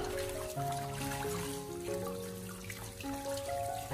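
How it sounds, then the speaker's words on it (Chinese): Tap water runs over cucumbers being rinsed in a kitchen, a steady splashing trickle with small shifting tones as the stream strikes the vegetables. "再把它放到流动的清水里面，这一次用流动的清水给它再次的清理一下"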